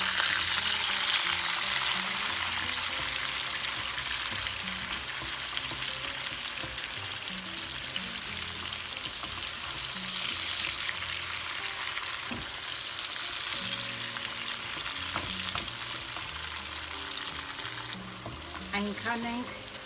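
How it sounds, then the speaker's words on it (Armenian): Chopped onion sizzling and frying steadily in oil and butter in a pan for a chicken sauce, with occasional stirring scrapes and a few clinks near the end, close and continuous. "Հիմա պետք է ավելացնենք սոխը։"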